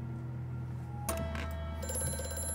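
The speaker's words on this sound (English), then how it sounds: "Hey, the phone." An old-fashioned telephone bell rings in the horror video game Amnesia, its sharp metallic trill cutting in suddenly over a low droning ambience, with bright ringing bursts that repeat and linger.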